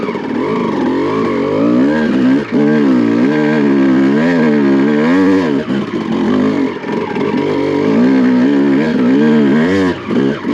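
A Honda CR250 two-stroke motocross dirt bike ridden in first gear on a steep slope, its loud, close engine revving continuously with rising and falling pitch and brief throttle dips throughout.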